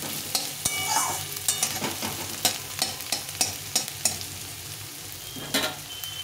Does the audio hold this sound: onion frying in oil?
yes